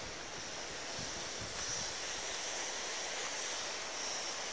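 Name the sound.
Atlantic Ocean waves at Dakar corniche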